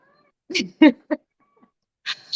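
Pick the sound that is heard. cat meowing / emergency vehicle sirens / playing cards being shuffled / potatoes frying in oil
cat meowing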